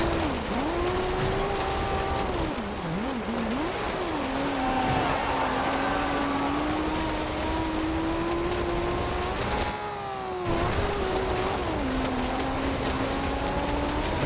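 A 1994 Toyota Celica GT-Four ST205 in Forza Horizon 2 runs steadily, its engine note rising and falling through gear changes, with a brief dip and shift around the middle and no talking.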